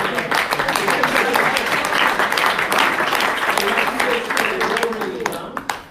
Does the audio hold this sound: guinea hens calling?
no